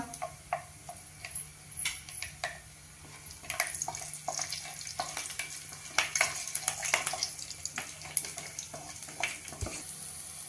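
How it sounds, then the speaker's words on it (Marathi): Garlic cloves and cumin seeds sizzle and crackle in a tablespoon of hot oil for a Marathi-style garlic fenugreek dish, an irregular close spattering that builds and grows busier over about ten seconds. "तेल गरम झालंय, जिरं घालूया। त्यामध्येच आता या लसणाच्या 7-8 पाकळ्या घालूया"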